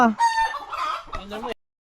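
A chicken clucks and squawks loudly up close, a short run of harsh calls lasting under two seconds.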